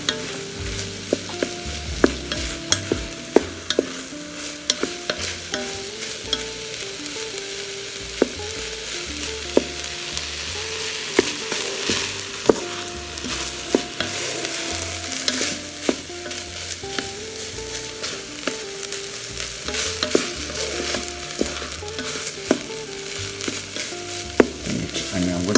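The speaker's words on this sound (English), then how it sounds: "Just give it just a gentle mix." Shrimp fried rice is stirred and tossed in a Ninja Foodi, with a steady sizzle of frying under repeated scraping and clinking of a utensil against the pot, close up and continuous without any talking.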